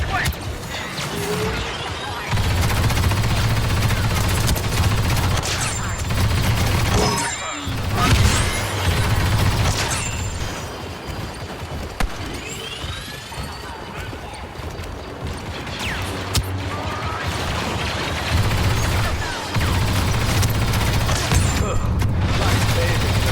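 A grenade blast and bursts of gunfire in the Battlefront 2 video game while playing the heavy class, with loud booms, crashing impacts and rattling shots layered over constant battle noise.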